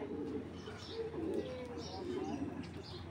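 Giribaz tournament pigeons coo in low, repeated murmurs at moderate distance, with steady background noise and a faint hum of voices throughout.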